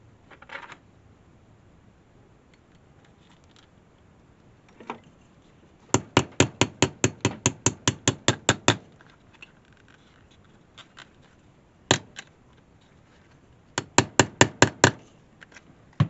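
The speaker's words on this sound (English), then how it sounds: "time to put our mounting hardware for the belt loop. Set our copper rivet." Hammer blows set a copper rivet on the belt loop of a knife sheath. They come in quick rhythmic bursts: one early tap, a run of about a dozen sharp strikes, a lone hit, then another cluster of five or six, all close and crisp.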